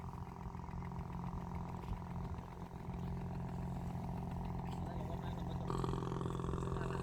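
Motorboat engine at sea during a coastal full-moon festival, a steady low mechanical putter and clatter running the whole time, with chatter from nearby people and a louder, busier stretch near the end.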